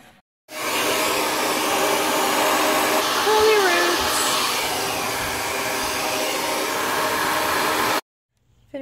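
A hair dryer blows steadily on damp hair, a loud, even whoosh that runs for about seven seconds before cutting off abruptly, with faint voices in the background.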